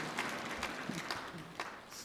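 A church congregation claps along during a Korean sermon, a faint, steady spatter of hand claps that carries on throughout with no clear speech over it.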